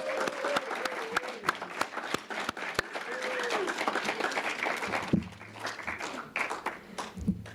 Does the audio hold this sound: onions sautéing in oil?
no